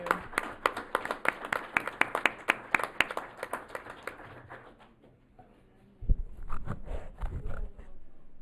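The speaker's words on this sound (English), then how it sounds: "How about a round of applause for our Civic Club and the great work that they do?" A small group claps for a civic club at a city council meeting in Sierra Madre, sharp distinct hand claps that thin out and stop, then a few shuffling thumps and scattered claps near the end.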